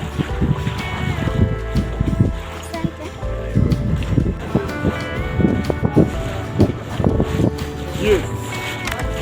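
A boat ride across a lake near Homa Bay, with steady engine rumble, wind buffeting the microphone and slapping waves throughout, as people talk over the noise.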